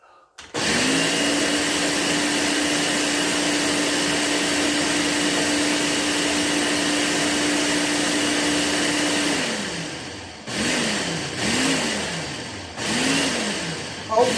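A blender liquefies homemade jalapeno hot sauce, its motor running at a loud steady whine for about nine seconds before slowing, then pulsing in three short bursts.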